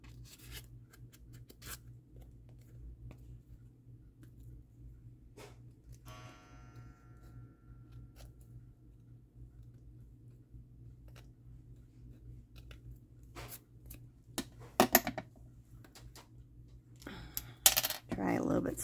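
Small scissors snip in scattered quiet clicks over a low background hum, with a few louder cuts and rustles toward the end.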